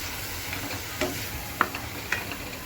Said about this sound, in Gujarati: તો હવે આને બરાબર મિક્સ કરી લઈએ,